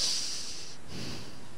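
A person takes one long, loud sniff close to the microphone during a playful Minecraft survival-multiplayer session, a breathy rush of air with no talking.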